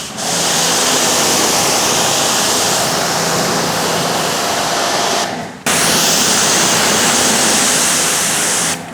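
A pressure washer sprays water at a trash bin indoors near cabinets, producing a loud, continuous hissing roar that stops briefly and then resumes just as strongly.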